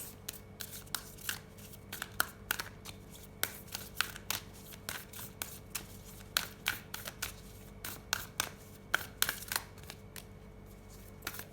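Tarot cards being shuffled in a steady run of crisp riffling snaps and soft flicks, close and fairly quiet, with no talking.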